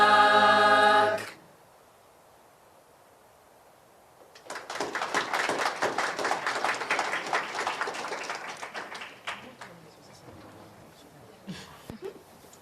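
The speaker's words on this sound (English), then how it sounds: "Give them another round of applause" A crowd at a municipal reorganization meeting applauds the high school chorus: after a brief sung ending and a pause, sustained dense clapping swells, holds steady for several seconds, then thins out into scattered claps.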